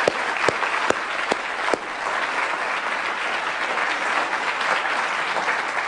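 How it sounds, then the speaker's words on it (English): A student audience applauds the speakers at the close of a holiday lecture, a dense burst of steady clapping with a few sharper claps standing out early, carrying on evenly without speech. "let's have one more round of applause for our terrific speakers"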